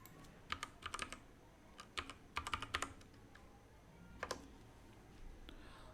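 Keys clatter on a computer keyboard in short irregular bursts of quick, close clicks, separated by pauses, with no speech over them.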